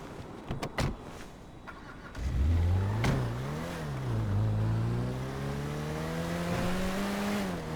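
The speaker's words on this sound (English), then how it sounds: "Shumash, you're driving" A car in the video game GTA V starts off and accelerates, its engine rising in pitch and revving through gear changes, loud and steady after a few short knocks at the start.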